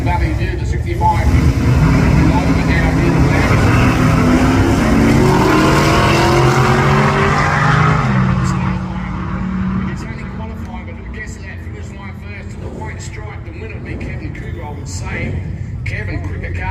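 A VC Commodore with a 347 engine races down a drag strip, its loud engine roar rising through gear changes before fading into the distance. A commentator talks over the sound throughout.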